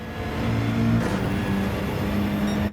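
A GR3 race car engine revs hard in Gran Turismo 7 on Suzuka, holding a high, steady whine with a brief rise in pitch around a gear change, loud and continuous with no voices.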